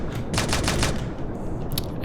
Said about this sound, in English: you can also press a button and get automatic fire